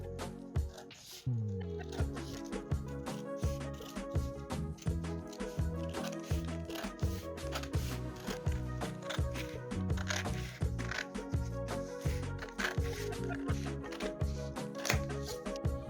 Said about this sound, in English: Next, I'm going to cut out my pattern.